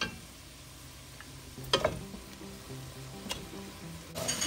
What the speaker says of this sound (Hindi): हम गोश्त को इसमें फ्राई करेंगे